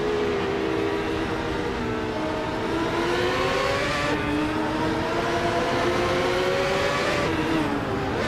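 Racing-game cars including a Lola T95 engine-driven race car, a continuous loud engine drone with pitch slowly rising and shifting as gears change, several engines blended together with no talk.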